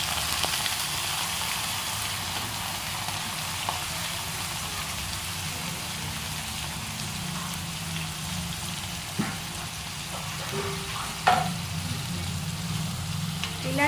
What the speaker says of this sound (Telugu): ఇలా ఆనియన్స్ బ్రౌనిష్ కలర్లో వచ్చేంత దాకా మనము ఫ్రై చేసుకోవాలి.